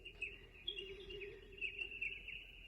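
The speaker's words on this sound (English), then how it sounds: "you can actually make different bird sounds" Bird-like chirps and warbling tones synthesized from feedback patches on a Make Noise QPAS filter and Mimeophon delay, a steady, continuous high-pitched twittering with a sustained lower drone beneath.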